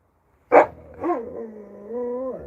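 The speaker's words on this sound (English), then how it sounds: "As you hear, Dakota gets a little mouthy." A dog gives one sharp bark close by, followed by drawn-out whining, talkative yowls that rise and fall; a rescue dog.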